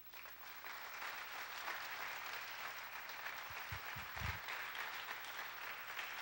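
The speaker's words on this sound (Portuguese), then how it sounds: "Podemos aplaudir Jesus?" A church congregation applauding during a Feast of Tabernacles morning service, a steady, fairly faint wash of many hands clapping at a distance, with a few low thumps near the middle.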